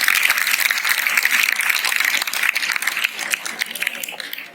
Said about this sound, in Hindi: तो मैं अब आमंत्रित करता हूँ आदरणीय प्रधानाचार्य, जोरदार ताली के साथ